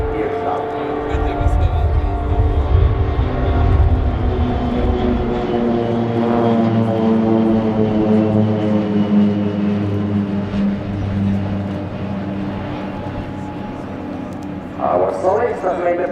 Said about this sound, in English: As you can see now, the PC-7 in the landing configuration,